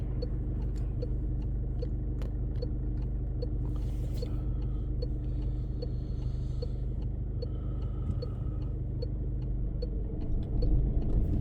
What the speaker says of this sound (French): L'accélération, je veux l'entendre, hein, d'accord?